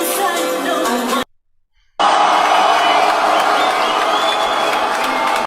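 Crowd noise at a live music event comes as loud, dense cheering and clapping in two stretches, split by about a second of silence.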